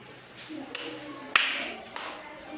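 In a classroom syllable-clapping game, children give a few soft, uneven claps. One louder clap stands out in the middle, and quiet speech runs beneath.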